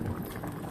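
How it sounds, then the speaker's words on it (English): Chicken and potato simmering in a pot on medium-high heat, a steady close bubbling and popping of liquid throughout. "It's on medium high because I want to make sure that it's nice and bubbling."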